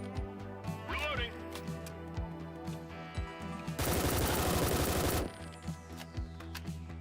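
Rapid automatic gunfire from a Skyrim-based shooter game, a dense loud burst lasting over a second in the middle, with someone talking over game sounds before and after.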